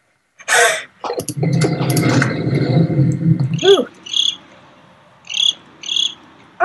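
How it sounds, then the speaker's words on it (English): A cricket chirps in the video game Gone Home, giving clear, high, repeated trills in short evenly spaced bursts. Earlier there is a louder rustling, clattering stretch. "Oh, there's a cricket in there."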